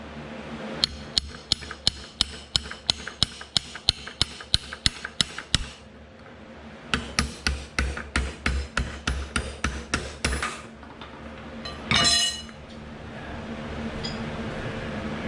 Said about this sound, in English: So now I'm just gonna have to pry this off.